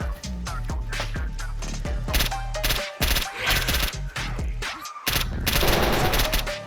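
Bursts of gunfire in the video game STALKER Anomaly, loud rapid shots in quick clusters with brief gaps, layered over background music.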